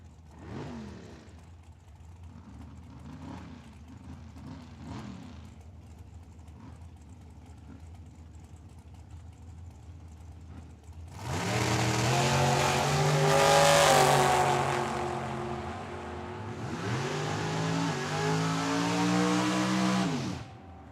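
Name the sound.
drag race of a dragster and a Mustang street car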